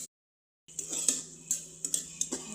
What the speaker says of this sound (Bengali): এখন এই চিংড়ি মাছগুলোকে আমি সুন্দর করে নেড়ে চেড়ে ভালোভাবে কষিয়ে নেব।